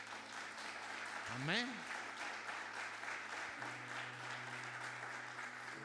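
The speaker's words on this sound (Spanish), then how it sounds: "Se merecen un aplauso." A church congregation at a Sunday celebration claps steadily under continuous talking, while a voice calls out briefly near the start and a sustained tone enters partway through, all fairly quiet.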